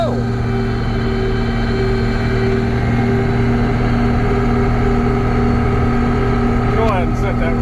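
A John Deere 6620 Titan II combine drives on the road with its engine throttled up, a steady loud harmonic drone with strong low tones, sustained and close throughout.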